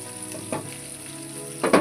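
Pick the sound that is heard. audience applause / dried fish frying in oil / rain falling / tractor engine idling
dried fish frying in oil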